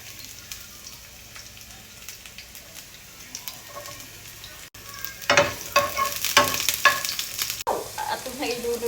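Chopped garlic and onion sizzling in a hot pan as they are stirred, a quiet crackle building into louder, sharper spits and scrapes toward the end, with no talking over it.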